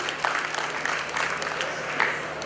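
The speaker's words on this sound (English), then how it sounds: "Ladies and gentlemen, a round of applause please for our panel members for the next panel discussion." Audience applause at a retail and eCommerce technology conference as panel members are welcomed for a discussion, fairly distant and even clapping across the hall with a low hum underneath.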